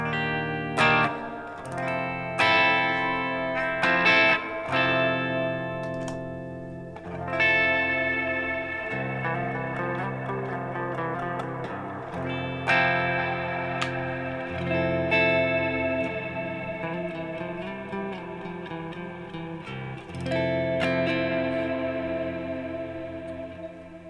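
Electric guitar played through a Revv G120 tube amp with Two Notes cab simulation and effects: sustained chords and melodic lines with chorus, reverb and echo, steady and up close, with no talking.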